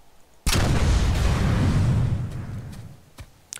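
A rocket launcher fires in the game Planetside 2, one loud close blast that roars and slowly fades over about two seconds, followed by a couple of faint clicks.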